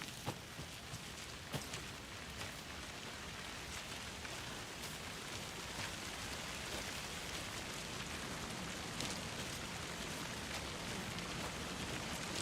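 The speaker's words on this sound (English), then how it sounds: "And it's raining again." Steady rain pours down in the video game Alan Wake 2, a continuous hiss of drops with occasional sharper splashes, and nobody speaks.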